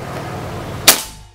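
A single sharp shot from a PCP air rifle filled to 2700 PSI cracks out suddenly after a low steady hum, then decays quickly back into the background.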